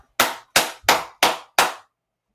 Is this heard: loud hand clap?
yes